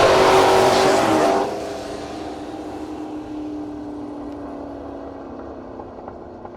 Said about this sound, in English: Eddyward Mountain, Scottsville based 89 Mustang. Bringing the front tires up a little bit.